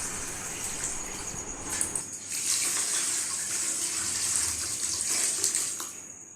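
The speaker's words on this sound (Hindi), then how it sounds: "अब उस पर जो आम टेम्परेचर मोटर का ठंडा पानी होता है वो पानी उस पर डाल देंगे।" Room-temperature tap water pours over hot vermicelli in a strainer, a steady close gushing splash that swells a little after the first couple of seconds and continues without talk.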